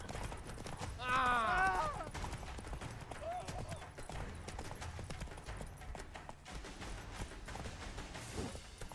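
Hooves of the horse Roach clip-clop in a quick galloping rhythm through a video game scene, with a brief whinny early on and game sounds mixed in.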